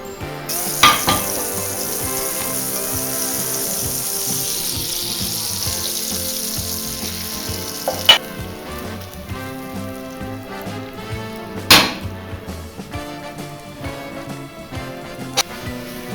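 Pancake batter fries in butter in a pan, giving a steady high sizzle throughout with a few sharp clanks of utensils against the pan, close and fairly loud, with no voices.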